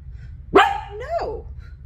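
A single loud, close dog bark rings out alone, followed by a shorter yelping whine as the bark trails off.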